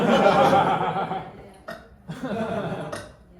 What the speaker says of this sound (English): Let's go with the sonic burp.